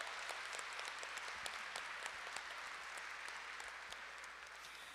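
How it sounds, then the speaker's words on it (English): Steady applause from an event audience at an individual qualifier competition, many hands clapping in an even, continuous wash, fairly faint and distant. "big round of applause to everybody"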